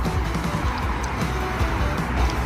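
A long bus pulls into a bus station in Saudi Arabia with a broad, steady rumble of engine and road noise and no clear speech.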